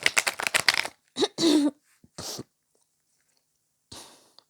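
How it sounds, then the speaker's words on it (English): A rapid burst of tarot cards being riffle-shuffled up close, followed by a few separate shuffling and tapping sounds with pauses between. "Let's have a quick shuffle here."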